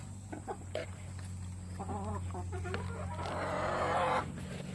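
A hen fusses and clucks in repeated bursts, with a louder, drawn-out squawk near the end, set against a steady low hum.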